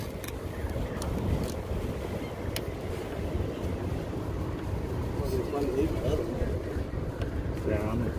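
Wind blowing on a fishing pier rumbles steadily as heavy, buffeting noise right against the microphone, with faint clicks and a murmur of voices beneath it.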